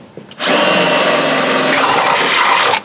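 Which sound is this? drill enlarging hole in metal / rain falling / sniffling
drill enlarging hole in metal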